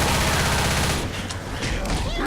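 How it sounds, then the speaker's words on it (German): Gunfire in the video game Left 4 Dead comes as a dense, loud burst of rapid shots that thins out after about a second into a rougher, quieter rattle. "Ich höre es einfach hinter mir nur ballern, wie gestört, Mann."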